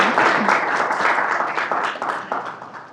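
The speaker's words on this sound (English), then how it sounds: "let's first give a round of applause to our panelists" An audience at a community panel event applauds the panelists, a dense round of clapping that is loudest at first and gradually thins out toward the end.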